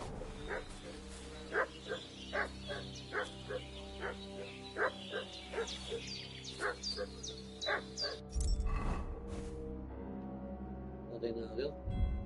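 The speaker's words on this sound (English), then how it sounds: "What's that dog making such a fuss about?" A dog barks repeatedly in a steady, rhythmic series of sharp yaps, moderately close, over a droning background, before a louder burst of noise near the end.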